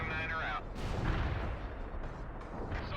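Heavy artillery fire support strikes land in the World in Conflict strategy game as a string of booming blasts and rumbling impacts. Loud bursts repeat across the few seconds with brief dips between them.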